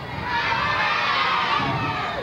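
A crowd of children in a live audience at a Barbie stage show yells out an answer together, a loud, sustained burst of shouting that holds steady for about two seconds.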